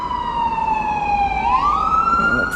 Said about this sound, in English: Let this ambulance go by.